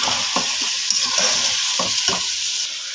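Spices such as cardamom sizzling in hot oil in a pan while being stirred, a steady loud fry with a few sharp scraping strokes of the spoon, close up.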